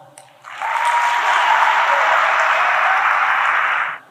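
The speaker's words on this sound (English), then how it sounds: "Can you guys just clap if you have children?" Audience clapping at a talk on social media: after a brief lead-in, a dense, loud wash of applause holds steady for about three and a half seconds, then cuts off abruptly.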